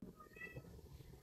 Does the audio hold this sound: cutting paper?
no